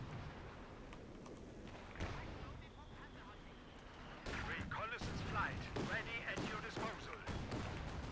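Machine gun fire in Company of Heroes 2 during a 4v4 battle on Port of Hamburg, rapid bursts of gunfire mixed with distant explosions and battlefield noise, growing denser midway.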